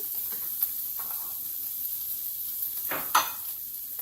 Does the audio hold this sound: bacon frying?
yes